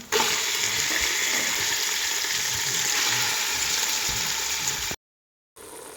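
Chicken frying in a pan with onion and ginger garlic paste gives a steady, close, loud sizzle that runs about five seconds before a brief cut to silence and then resumes.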